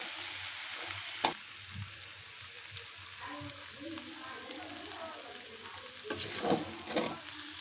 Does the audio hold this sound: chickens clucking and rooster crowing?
no